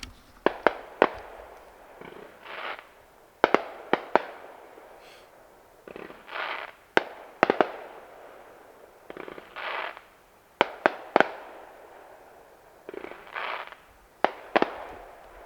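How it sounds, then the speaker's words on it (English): Fireworks go off outdoors in several loud bursts of sharp cracks and pops, separated by brief quiet gaps, with a faint voice now and then during a feral hog hunt. "It sounded like freaking fireworks."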